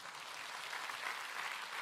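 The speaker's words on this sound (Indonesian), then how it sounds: "Tepuk tangan untuk Indonesia." Faint, distant audience applause at an Indonesian talk show event, a steady wash of many hands clapping with no break, low in level throughout.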